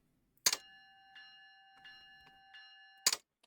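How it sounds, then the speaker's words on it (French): A locomotive bell in the Run 8 train simulator game rings twice with sharp metallic clangs about two and a half seconds apart, each leaving a long ringing tail, with faint soft knocks between them and no talk. "J'ai allumé la cloche."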